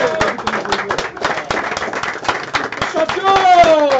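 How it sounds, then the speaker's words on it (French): Clapping and cheering from the audience at a Breizh Arcade Summer Fest gaming tournament as the winner is announced, with scattered claps and voices mixed throughout and excited shouting rising near the end. "un tonnerre d'applaudissements pour Yaz qui gagne 3-3"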